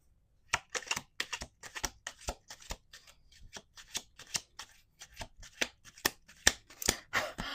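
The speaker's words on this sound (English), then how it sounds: "Let's do 1 more shuffle here." Tarot cards are shuffled in repeated crisp riffles and taps, close by, with short bursts in an uneven rhythm.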